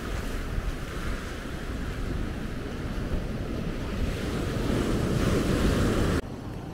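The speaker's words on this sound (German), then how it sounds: "Ja, jetzt kommt das Wasser hier immer noch rüber." Sea waves wash over the shore at high tide in Maspalomas, Gran Canaria, a loud, continuous rushing surge that swells toward the end, with steady wind buffeting the microphone.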